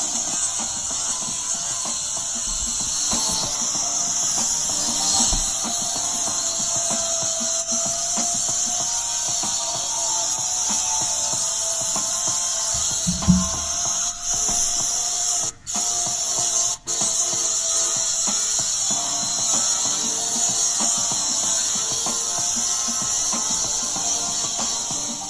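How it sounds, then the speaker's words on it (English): A floor grinding and sanding machine runs continuously with a steady high whine and gritty hiss, close and loud, with a couple of brief dips midway. "Angel is grinding and sanding the floor."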